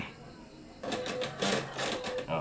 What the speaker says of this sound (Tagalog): Kasi nag-i-initialize yung printer head.